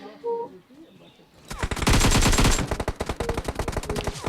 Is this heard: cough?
no